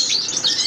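Canaries in breeding cages give a quick burst of bright, high chirps, close and fairly loud, over a soft room background.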